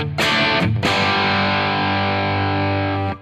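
A distorted electric guitar through a Headrush amp modeler's Black Op distortion pedal model strikes a couple of quick chords, then lets one thick, fuzzy chord ring out loudly until it is cut off.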